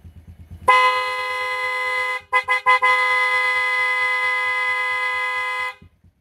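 A motorcycle horn honks loudly and close, with one long blast, a few quick taps, then another sustained blast over a steady idling engine.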